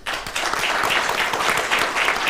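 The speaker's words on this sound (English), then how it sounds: "A big round of applause, please." An audience at a deep-technologies conference session gives a loud, steady round of applause that holds evenly for the whole stretch, with no voices over it.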